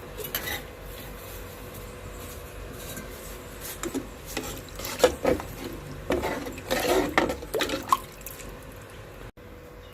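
Water splashes and trickles into a pot of paneer pulao with coconut milk amid clinking of metal cookware, moderately close, with scattered clanks and drips and no talking.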